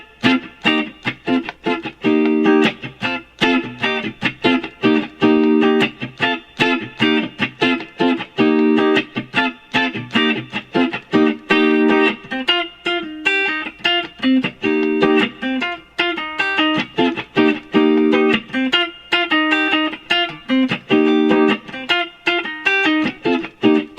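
An electric guitar plays both the lead and rhythm parts of a song together, a loud, bouncy, repeating riff with clean picked notes and chord stabs, heard alone without any voices.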